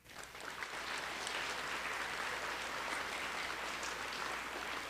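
Sustained audience applause at a Purple Star celebration for Lawton Public Schools, held at Freedom Elementary, with steady dense clapping throughout and no talk over it.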